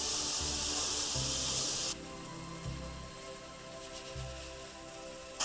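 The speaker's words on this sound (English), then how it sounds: "just going to go over the existing colour and recolour it with the airbrush" Airbrush spraying an orange mix with a little white added over the shoulder pad of a Star Wars Legion stormtrooper miniature. A steady close hiss with a bright spray burst at the start that then settles into a softer continuous hiss.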